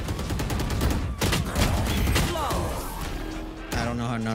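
Rapid gunfire bursts in the shooter game Valorant, loud clustered shots with sharp impacts and rattling, ending in a tonal electronic chime, a voice faintly under the action.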